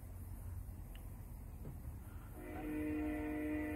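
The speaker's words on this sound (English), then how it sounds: "we even get an air horn in the background for full effect" A steady tonal horn sounds from an HO scale brass model train car setup, starting partway through and holding over a constant low rumble and hiss, faint and distant-sounding.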